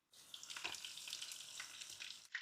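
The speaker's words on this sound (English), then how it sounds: "I put a good amount of extra virgin olive oil in a pan, heat it up, then add the artichokes" Artichokes fry in hot extra virgin olive oil in a pan, a steady close crackling sizzle that continues unbroken with no voices.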